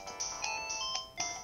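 A phone ringtone plays loud and close, a bright electronic melody repeating in short bursts with no voices over it.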